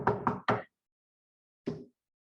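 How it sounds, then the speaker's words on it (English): Knocking on an apartment door: three quick knocks in a row, a pause of about a second, then one more single knock, close and distinct against silence. "He knocks a little more."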